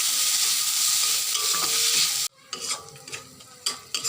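Chopped onion and three green chillies stir-fry in a pan as filling for a fish and pointed gourd dolma, starting as a loud hiss and then cutting to quieter scrapes and stirring knocks over a softer sizzle, close up.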